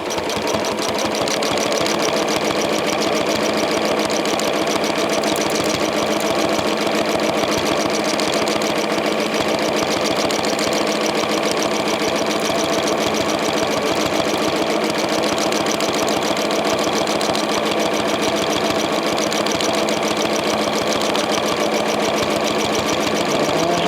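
A sewing machine doing free motion quilting on a fabric sandwich runs at a steady, fast, loud mechanical whir throughout, needle chatter continuous with no pauses.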